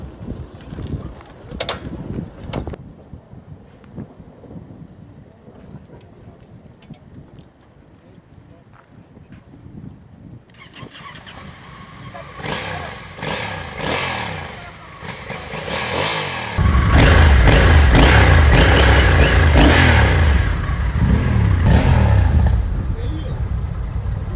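Vehicle engines, likely motorcycles, start on a training course and rev louder and louder, with wind noise on the mic and rising roaring engine noise toward the end.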